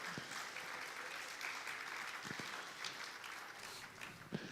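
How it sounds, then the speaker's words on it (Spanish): A church congregation applauds the Lord during a multilingual worship service, a steady, soft wash of clapping that holds for several seconds at a distance. "Dale un aplauso al Señor"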